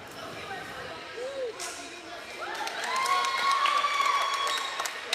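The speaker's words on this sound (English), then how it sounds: "The North Central crowd clapping for their girls" Gym crowd at an eighth grade girls' volleyball match between Hicksville and North Central, scattered claps and shouts building to louder cheering, with talk mixed in throughout.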